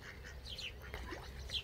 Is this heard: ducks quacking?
yes